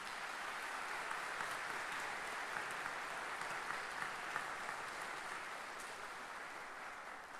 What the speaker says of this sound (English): please, to give a round of applause to my colleagues for their hard work for teaching